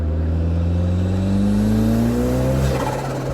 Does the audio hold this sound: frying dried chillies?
no